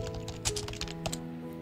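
Quiet, steady typing on a computer keyboard, with a close run of soft key clicks and a few slightly sharper taps, heard alone.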